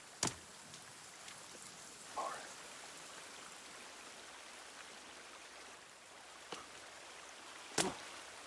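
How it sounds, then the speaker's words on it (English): Rain falls steadily in a video game as a soft, even wash of hiss, broken by a few sharp isolated clicks and a muffled thump. "But at least it's raining."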